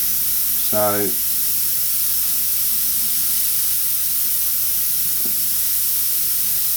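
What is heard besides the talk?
airbrush spraying paint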